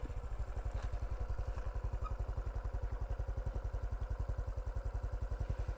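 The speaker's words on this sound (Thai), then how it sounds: "เดี๋ยวเราเร่งเครื่องขึ้นไปเดี๋ยวมันจะกระชั้นชิด" A motorcycle engine accelerating uphill runs close by with a fast, steady thumping pulse that holds at a constant, fairly loud level throughout.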